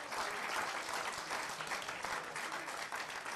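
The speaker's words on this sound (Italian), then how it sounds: "qui va il nostro pensiero, il nostro applauso" Steady audience applause at an award ceremony, continuous and fairly even, heard from within the hall without pause.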